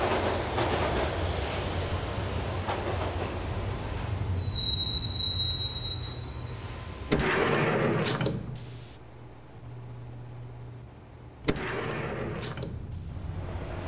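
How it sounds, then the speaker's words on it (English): A subway train riding in Max Payne Mobile, with loud sustained rumble and high metallic wheel squeals, dropping and swelling again as it runs, with sharp bangs between passages. "the train doors had already shut behind me, and I was in for the ride"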